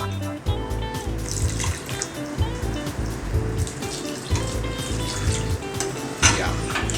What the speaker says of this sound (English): I'm just going to add a bit more water to it.